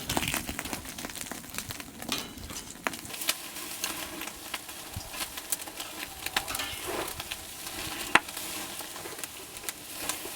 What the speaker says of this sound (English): Got to be careful on this grill that I don't lose the bacon like that through the middle